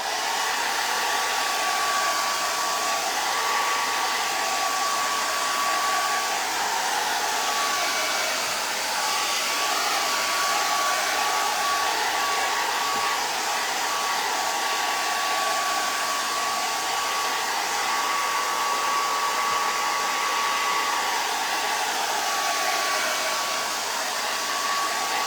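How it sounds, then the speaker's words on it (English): A hair dryer runs continuously and loudly for the whole stretch with a steady whooshing roar and a thin high whine, with no speech. "I am gonna just turn on my dryer just for a minute."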